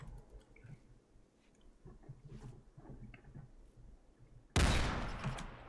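Gunfire in the video game Rimworld: after a stretch of quiet, scattered game sounds, a loud, dense burst of shots suddenly erupts and keeps going to the end.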